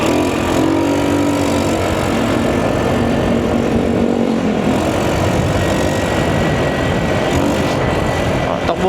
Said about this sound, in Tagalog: Takbo pa rin yung motor natin ha.